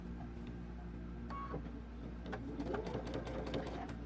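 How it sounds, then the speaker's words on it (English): A sewing machine runs quietly in short bursts, stitching around a double welt pocket on an existing jacket, with faint rapid mechanical chatter in a quiet room. "And we're just going to sew all the way around."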